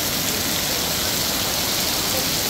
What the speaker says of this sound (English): Some serious rain coming down.